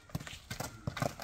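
The hooves of a young horse, two to three years old, clip-clop in a quick, uneven rhythm of several soft hoof falls at a moderate distance.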